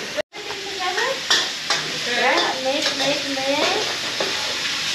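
Noodles stir-fry in sauce in a hot wok during a Thai cooking class in Chiang Mai, with steady sizzling and repeated scraping stirs close by, and a voice speaking briefly over it.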